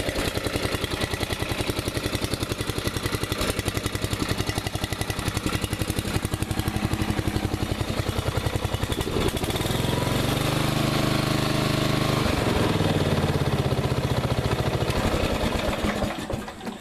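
A small lawn mower engine runs steadily and loud up close, its pitch shifting slightly partway through, with no talking.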